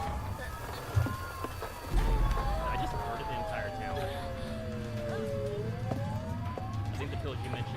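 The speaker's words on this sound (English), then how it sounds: "I hear police sirens, though." Police sirens wail in the horror video game Silent Hill f, their rising and falling tones sweeping steadily over a constant rumble of engine and ambient game noise.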